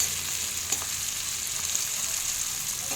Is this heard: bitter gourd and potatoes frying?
yes